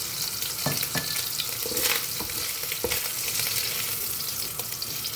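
Shrimp frying in a hot pan, a steady, dense sizzle with crackling and occasional stirring scrapes, close and continuous throughout with no voices.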